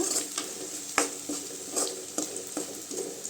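Onions fry in a pan for a tomato chutney, crackling and sizzling steadily with small spatter bursts and occasional stirring clicks, close and alone.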